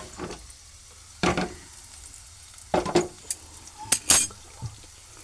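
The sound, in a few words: cooking pan being taken off and changed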